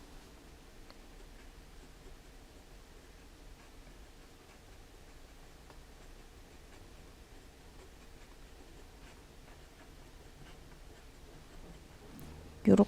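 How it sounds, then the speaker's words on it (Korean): A Platinum Century fountain pen with an SF nib writes on paper, a faint, steady scratchy rustle of the nib running on and on, ending in a brief louder knock. "SF닙 한번 써볼게요."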